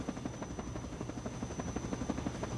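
Helicopter in the video game Garry's Mod setting down to land, its steady rotor chop and engine hum filling the scene at a constant, fairly close level, with no talk over it.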